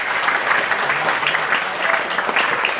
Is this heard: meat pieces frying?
no